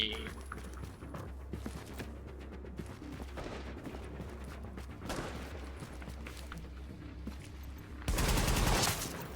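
Sniper gunfire in The Division video game comes as several sharp, cracking shots scattered among busy game sounds, with one loud, harsh blast near the end.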